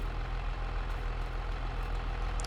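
A farm vehicle engine left idling in the video game Farming Simulator 22, a steady low rumbling drone with constant level and no talk, like a heavy diesel truck ticking over.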